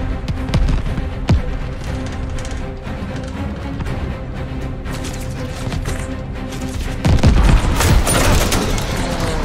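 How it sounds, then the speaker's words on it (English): Tracer gunfire crackles in a Call of Duty Vanguard air battle over Midway, with dense repeated bursts and sharp cracks over a constant engine roar that swells louder near the end. "Watch that tracer fire."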